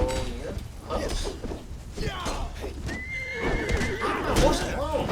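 A horse in Conan Exiles gives a loud, wavering neigh over clopping hooves and busy game ambience, with a person talking intermittently throughout.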